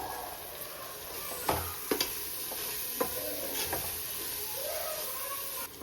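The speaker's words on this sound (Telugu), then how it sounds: "కారం పొడి కూడా కొంచెం మంచిగా ఆయిల్లో ఫ్రై అయిపోయింది." Chili powder and garam masala fry in oil while being stirred, a steady close sizzle with a few sharp spoon clinks and scrapes against the pan.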